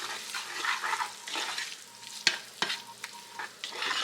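A chili-spiced leftover meatloaf mixture is stirred in a hot pan: soft sizzling under repeated scraping strokes and a few sharp clicks of the utensil against the pan, no voices.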